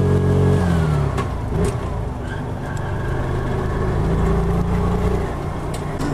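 A 2020 Piaggio Ape City Fi three-wheeler engine pulling in second gear, a loud steady mid-pitched drone from inside the cab, rising slightly in pitch as it accelerates, with road rumble underneath.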